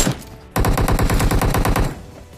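A rapid burst of automatic gunfire from the mobile game PUBG Mobile rattles out loud and close for about a second and a half, the evenly spaced shots cutting off abruptly into a fading tail.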